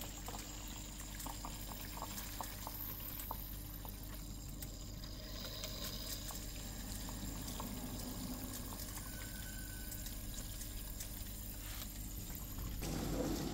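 Water rushing steadily into a Beko dishwasher that has a drain fault, a continuous close hiss and gurgle holding level for about thirteen seconds and swelling slightly at the end, with no talking.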